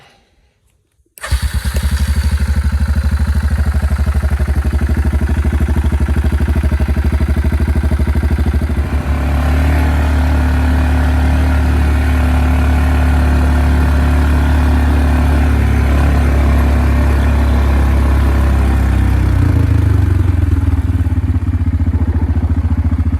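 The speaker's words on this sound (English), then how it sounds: "acceleration for about 100 yards. Let off the gas, and it's still idling without stalling on me" A 2004 Yamaha Kodiak 400 ATV engine with an aftermarket carburetor fires up and revs hard for a long stretch, then drops back to a steady, loud idle without stalling, recorded up close.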